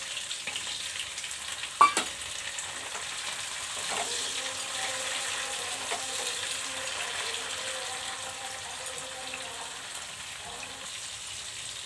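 Tomato goes into a pan of frying onions and spices for chicken kosha. A sharp clack near the start gives way to a continuous, moderately loud sizzle with faint stirring.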